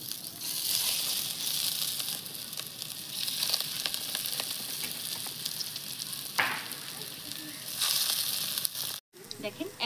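Food fries in hot oil in a kadai with a constant dense sizzle and crackle, broken by brief stirring scrapes. Near the end the sound cuts out briefly, then the frying resumes.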